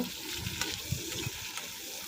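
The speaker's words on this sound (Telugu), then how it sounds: "ఉల్లిపాయ, ఎండుమిర్చి, వెల్లుల్లిపాయ, జీలకర్ర పోపు వేసుకున్నాను. పోపు వేగిన తర్వాత" A tempering of onion, dry red chilli, garlic and cumin fries in hot oil, a soft, steady sizzle with a few faint stirring clinks and scrapes, fairly quiet and without talk.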